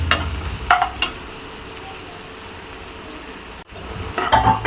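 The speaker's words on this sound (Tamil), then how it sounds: "வெங்காயம் வந்து ட்ரை ஆயிடுச்சு" Small onions (shallots) fry in oil in a pan, a continuous close sizzle broken by a few clinks and scrapes of a stirring utensil at the start and end.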